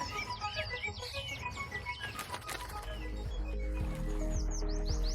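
Birds call and chirp at Shuanghui Lake National Wetland in Chongqing, where rare species such as Chinese mergansers and mandarin ducks gather; busy overlapping twitters and whistles sound fairly close, and a low rumble builds beneath them toward the end.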